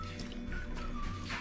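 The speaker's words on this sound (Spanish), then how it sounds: "voy a agregarle 1 taza de agua a la licuadora" A cup of water is poured into a blender holding cooked tomatoes and chiles for a red chile sauce, a short soft trickling and dripping splash, quiet and close.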